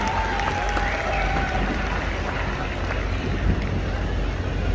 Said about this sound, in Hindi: एक बार दोबारा से बिग राउंड ऑफ अप्लॉज, बहुत जोर तालियां आप सभी लोगों के लिए